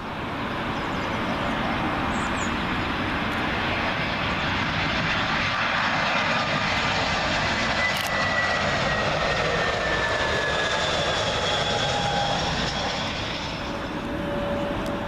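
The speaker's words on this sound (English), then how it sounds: "that leaves the way clear now for British Airways A319 arriving in from Amsterdam" A British Airways Airbus A319 arriving from Amsterdam passes low on approach to land at Heathrow's runway 27L, a loud, steady jet roar with gliding whine tones holding close and even throughout, no voices.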